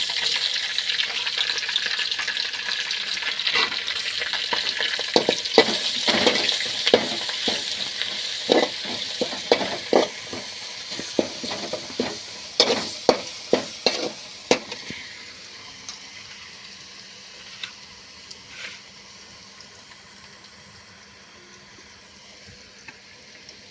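Ginger and garlic frying in hot oil as a spoon stirs them for a kurma, close clattering scrapes over a busy sizzle that thin out and fade to a quieter hiss.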